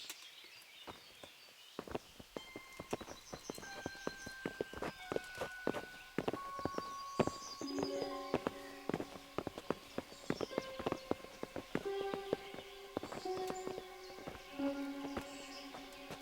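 Horse hooves clip-clop in a steady, brisk rhythm in the video game Kingdom Come: Deliverance, mixed with footsteps and accompanied by melodic game music.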